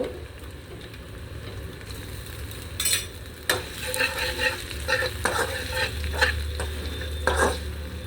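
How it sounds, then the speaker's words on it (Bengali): Flattened rice (chira) frying in oil in a pan, a soft continuous sizzle with scattered stirring scrapes and utensil clinks that grow busier toward the end, close, no voices. "এখানে আমি এই তেলটার মধ্যে চিড়াটাকে দিয়ে দিলাম, চিড়াটাকে ভেজে নেব"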